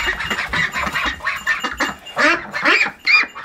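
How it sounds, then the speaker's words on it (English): Ducks on a farm quack repeatedly in loud, nasal, uneven bursts, several calls overlapping close by with short gaps, including some deep, harsh quacks. "a female duck has a big, deep quack, like an aggressive,"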